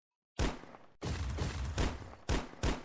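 A machine gun in the mobile robot-survival game Mech Assemble fires in several dense bursts of rapid shots, loud and close, separated by brief gaps. No voices.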